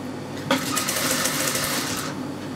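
A sewing machine stitches fabric in a quick, rapid mechanical burst of about one and a half seconds, close and fairly loud over a low steady hum.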